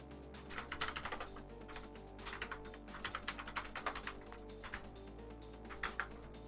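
Fast, quiet typing on a computer keyboard, a steady stream of light key clicks with small bursts and short pauses, heard alone at close range.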